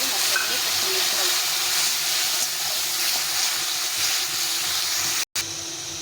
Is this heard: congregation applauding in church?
no